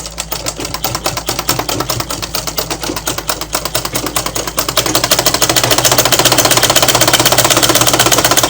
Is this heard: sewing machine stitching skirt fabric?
yes